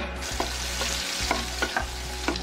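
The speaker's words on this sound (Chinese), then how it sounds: "煎猪油" Cubes of pork belly fry in lard in a wok with a steady, close sizzle, broken by a few sharp scraping clicks as the pieces are stirred.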